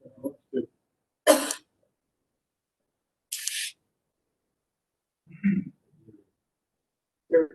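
A few short, separate throat-clearing bursts and coughs with quiet gaps between them, close to the microphone.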